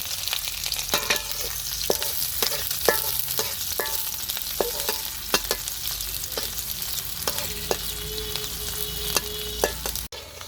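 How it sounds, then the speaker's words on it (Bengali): Chopped onion fries in a pan with a constant close sizzle, broken by frequent scraping and clinking strokes as a spatula stirs the pieces. No voices are heard. "পেঁয়াজ ভাজা হয়ে গেছে, নামিয়ে নিব।"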